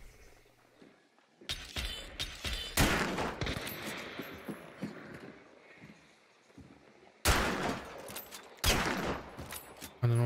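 Sporadic gunshots in Hunt: Showdown crack out in separate sharp bursts, several spaced apart over ten seconds, moderately loud against a quiet background.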